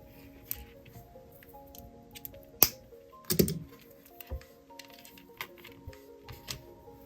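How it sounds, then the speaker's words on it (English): Wire cutters snip off a wire tail while making jewelry, a few sharp, close clicks and snaps among quiet handling noises, with no talk. "Let me snip off this tail."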